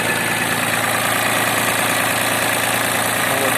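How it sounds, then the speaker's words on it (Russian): An ISEKI TU170 three-cylinder mini tractor engine idles steadily nearby, a low, even chugging rumble with no change in pace. "Трактор у нас также трехцилиндровый."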